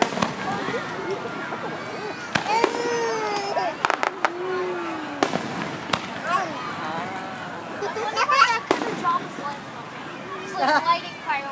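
Fireworks being lit and set off by a lake, with repeated sharp crackling bangs and whistling launches scattered through the scene while a group of people chatter and talk nearby.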